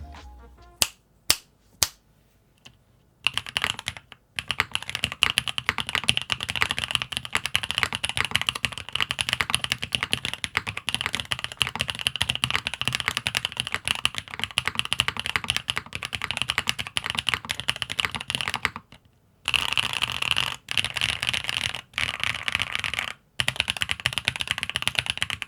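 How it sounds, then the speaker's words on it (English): Typing on an MM Studio Class 80 R2 mechanical keyboard fitted with a palm plate: rapid, steady clacking keystrokes close up, opening with a few isolated taps and broken by brief pauses. "here's a quick typing test with the palm plate"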